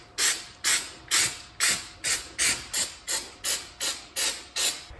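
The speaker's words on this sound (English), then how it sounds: "spray some rubberized rock guard where we just repaired" A spray can applies rubberized rock guard to a repaired car rocker panel in about eleven short, even hissing bursts, close and steady in rhythm.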